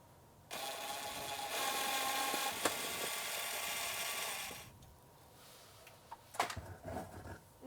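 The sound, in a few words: Phillips head screw bit removing mounting screws from shunt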